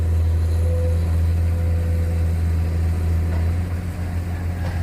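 Komatsu PC200-8 hydraulic excavator diesel engine running steadily on a cramped site while loading soil into a ten-wheel dump truck, a loud, continuous low hum that holds constant throughout.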